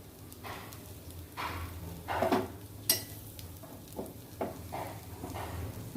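Batter poured adai-style into a little hot oil gives a faint, low sizzle with scattered soft scrapes and utensil knocks on the pan, close by and without voices.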